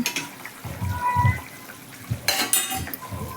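Fried katla fish pieces drop into a bubbling curry, producing several soft low thuds and splashes with a brief bright sizzle partway through, heard close with no speech.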